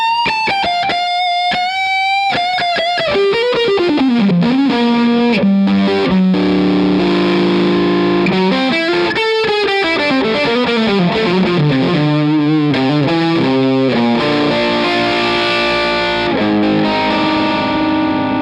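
An electric guitar played through a 29 Pedals FLWR overdrive and fuzz distortion pedal, a loud, saturated run of sustained notes and bending melodic lines with a thick, gritty, effected tone, played alone with no talking.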